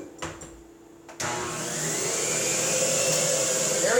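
A kitchen machine motor, ready for vegetables to be fed in, switches on after a few light knocks and settles into a loud, steady whirring drone that holds to the end.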